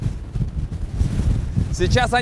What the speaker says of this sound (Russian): На самом деле ветрище такое, что мне кажется, тут где-то 3-4 человека должно сдувать в день с этих скал.